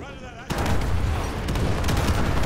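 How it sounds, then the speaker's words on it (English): An artillery strike lands in Call of Duty Modern Warfare 2 Remastered: a sudden loud boom half a second in opens into a sustained, dense roar of blasts and rumbling debris. "Use your laser designator to call in artillery on those vehicles."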